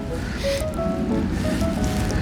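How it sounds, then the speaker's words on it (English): The Oyster River on Vancouver Island's shoreline flows strongly, a steady broadband rush of water heard continuously at moderate distance, with some wind and faint tonal hum mixed in and no speech. "you can see the Oyster River over there just coming down, and you can hear the dang thing. It's running pretty good right now."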